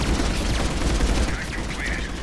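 Rapid video-game gunfire from Mass Effect 3 multiplayer, dense overlapping bursts and shots crackling continuously at close range under a busy mix of game noise.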